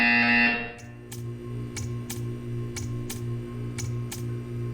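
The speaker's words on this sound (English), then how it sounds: "You will hear a buzzer." A high tone cuts off, then sharp electronic buzzer-like clicks repeat at uneven intervals over a steady low hum, a buzzer in the video game Portal 2.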